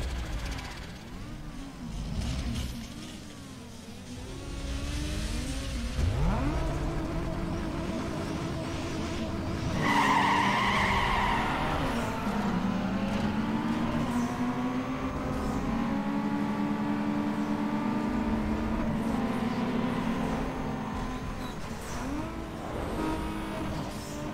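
A lowered car in Need for Speed Underground 2 roars through a race, its engine note climbing and shifting in steady sweeps, loud and continuous with no voices.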